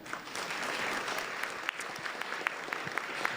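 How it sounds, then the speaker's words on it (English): An audience applauds three panelists and a moderator at a civic discussion on shrinking safety nets. The clapping is steady and dense throughout, with a few sharper individual claps standing out near the end. "give these three panelists and Lisa and"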